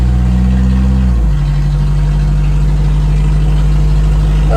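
Loud, unmuffled engine of a 1987 Toyota van with no muffler, droning steadily up close; around one second in, the pitch drops and settles into a rough, constant idle-like rumble, with no talking.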